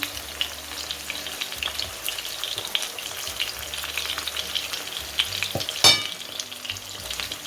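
Chapli kebabs fry in a pan with a steady, close sizzle and crackle, broken by a single sharp utensil clink near the end.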